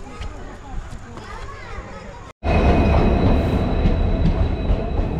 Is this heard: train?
yes